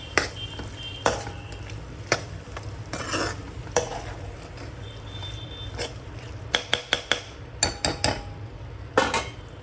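Cauliflower and pea curry stirred in a pan with salt and dried fenugreek leaves, sharp spoon-on-metal clinks and scrapes recurring over a low sizzle, clustering toward the end.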